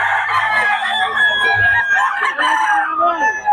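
A Sweater Cross Gilmore gamefowl rooster crows in a long, drawn-out call at close range, with further clucking and crowing from other fowl around it.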